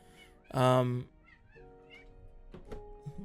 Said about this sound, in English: My cat is yapping again.